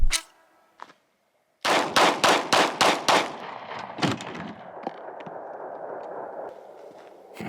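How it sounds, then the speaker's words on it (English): A Glock 19 9mm pistol fires about six sharp shots in quick succession into a Kevlar-insert pillow, loud and close. Booming echoes and one or two later bangs trail off into a quiet background. "So we're gonna use a Glock 19 chambered in 9mm to start with."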